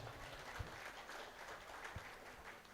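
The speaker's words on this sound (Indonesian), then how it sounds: "tepuk tangan buat Bapak Ibu komite semuanya" An audience at a kindergarten graduation and arts performance claps for the school committee, a soft, continuous patter of hands with a couple of slightly sharper claps standing out.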